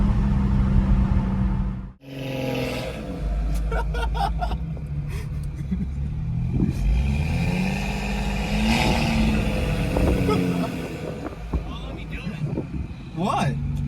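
A BMW F30 340i with the B58 engine revs and rises through paddle-shifted gears, the engine note climbing and dropping with a sharp cut near the start, while people talk excitedly over it.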